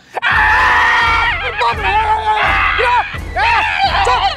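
A woman screams loudly and repeatedly in long, wavering, pitch-bending bursts with short gaps between them, close and harsh.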